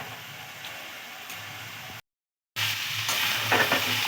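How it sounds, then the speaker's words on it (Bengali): Masala spices frying in oil in a pan for a cauliflower and potato dish, a soft hissing sizzle with a brief gap of silence midway, then a slightly louder sizzle with stirring scrapes; no talking. "ভালো করে এবারে মশলাটা কষিয়ে নেব।"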